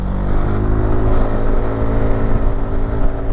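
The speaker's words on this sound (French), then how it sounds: "Et le bruit, c'est un bruit de scooter normal." A BMW C400 GT scooter engine hums and revs steadily up close while accelerating, a buzzing motor drone with a slight rise in pitch, no voices.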